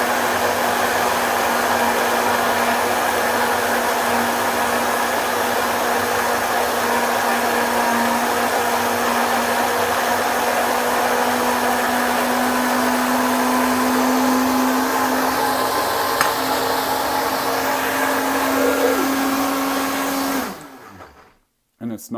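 A blender runs steadily and loudly for about twenty seconds, churning raw vegan lentil soup thickened with chia seeds. Its motor drone holds an even pitch, strains a little as the mix thickens, then cuts off abruptly near the end.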